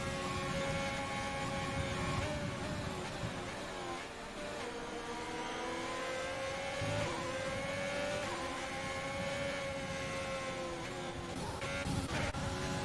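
Racing cars from a Japan GP online league race on PC, engines droning steadily with rising and falling revs as they pass, loud and continuous throughout.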